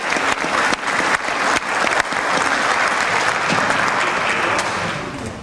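Audience at a county sheriff primary debate applauds a moderator, a dense, loud round of clapping that starts sharply, holds steady and fades slightly at the end, with no talking over it.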